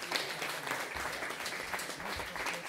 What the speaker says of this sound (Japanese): 勝者半蔵龍にも大きな拍手